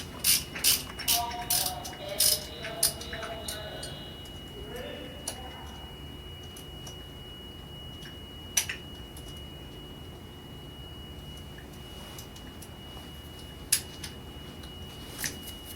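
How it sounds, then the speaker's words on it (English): Compressor screws being unscrewed from a diaphragm valve, heard as a cluster of sharp metallic clicks and ratcheting ticks at the start, then sparse scattered taps and clicks over a quiet background. "They're now going to remove the 2 compressor screws which attach the compressor, the green component, to the valve diaphragm."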